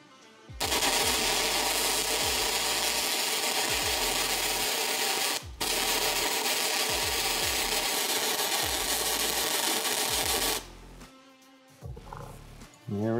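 A flux core welder crackles and sizzles loudly and continuously at close range during a back-and-forth weld on a table, pausing briefly once before the crackle stops near the end.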